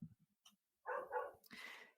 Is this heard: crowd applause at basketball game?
no